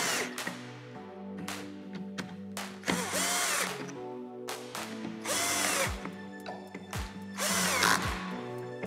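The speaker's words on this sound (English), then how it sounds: "After all the screws are started, I'm going to start walking around in a star pattern, evenly tightening." Power driver tightening screws on a commercial water treatment valve, repeated close whirring bursts of the motor, each ending as a screw seats, with short gaps between them.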